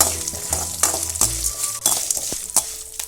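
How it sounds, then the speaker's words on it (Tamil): Pepper, garlic, urad dal, asafoetida and dried red chillies sautéing in a pan, with a steady close sizzle and the scrape and clink of a spoon stirring, and no talk. "இப்போ இதெல்லாம் வந்து லைட்டாக வதக்கிக்கலாம்."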